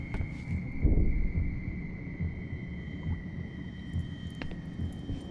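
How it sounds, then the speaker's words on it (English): A character's heartbeat in the horror video game Song of Horror, a low, soft, throbbing pulse under a faint steady tonal hum, quiet and close, with no voices over it. "Also, his heartbeat is going right now."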